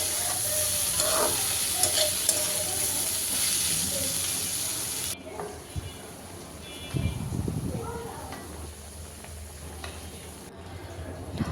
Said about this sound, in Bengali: এখন আমি ভাজিটাও নাড়াচাড়া করে ভেজে নিব।